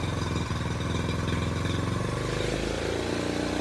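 A Honda Trail 90 motorcycle fitted with an ATC 125M engine runs steadily at idle close by, a continuous mid-pitched engine chug with a faint clatter and slight unevenness throughout.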